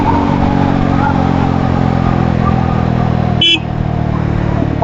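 A Yezdi Roadster motorcycle pulls in fourth gear on the road, its loud steady engine drone close and continuous under wind rush, with a brief tonal blip midway.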